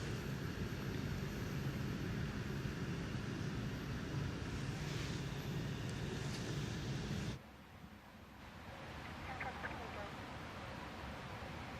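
Blue Origin New Shepard rocket's BE3 liquid oxygen, liquid hydrogen engine roars during ascent, a distant, steady broadband rumble that cuts off abruptly partway, leaving a quieter hiss, with commentary talking over it.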